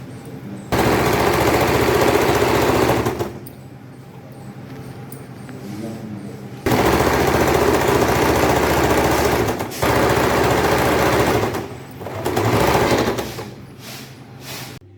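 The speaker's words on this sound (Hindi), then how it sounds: "अब इस पर बिल्कुल आधा इंच की सिलाई डालेंगे इस तरह से।" A sewing machine runs in long, steady bursts of rapid, loud stitching as an old saree is sewn into a suit, with short pauses and quieter gaps between runs.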